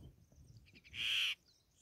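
Red-wattled lapwing calling over a farm field: a few soft chirps, then one loud, sharp, sustained shrill call about a third of a second long, close by and alone, with no talk.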